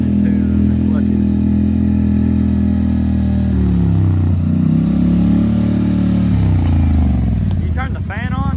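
A Polaris Sportsman ATV engine holds a steady loud drone with shifting pitch as it revs during clutch tuning, up close, and a voice talks over it near the end.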